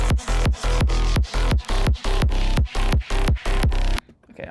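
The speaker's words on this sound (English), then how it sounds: "this is the like clip to 0 method, and it sounds like this." Heavily clipped, loud mix processed with the clip-to-zero clipping method, a dense driving beat of roughly a dozen hard, evenly spaced hits with sustained tones between them, cutting off abruptly near the end.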